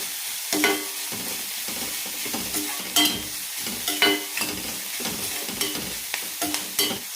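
Onions and curry leaves sauté in a pan for paneer gravy, a gentle sizzle under frequent rhythmic scrapes and taps of a spoon stirring against the pan, heard up close with no talking.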